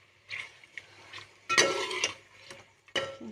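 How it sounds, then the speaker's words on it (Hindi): Ground tomatoes are stirred into a restaurant-style Cholistani chicken karahi, giving a few close, intermittent scraping strokes of a spoon against the pot with short quiet gaps between them. "अब हम इसको अच्छी तरह से मिक्स करेंगे"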